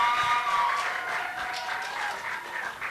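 Audience members at a poetry slam in an arts bar clap in a short burst of moderate applause, steady and fairly close, lasting a few seconds.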